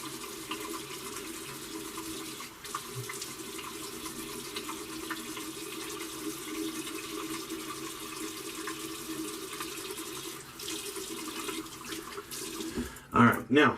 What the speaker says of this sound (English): So let me rinse off real quick.